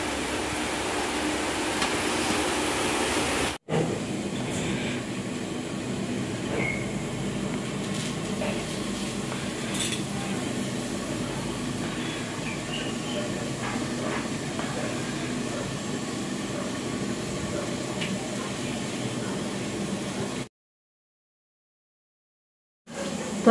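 Fennel biscuits of flour dough deep-frying in hot oil, a steady broadband hiss and crackle running continuously at moderate level, with a brief cut early on and a silent gap near the end.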